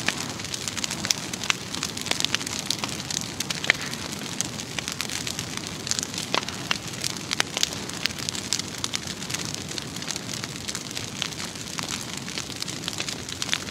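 A large brush pile fire burns steadily while clearing property, its broadband roar thick with scattered crackles and pops, loud and continuous throughout with no talking.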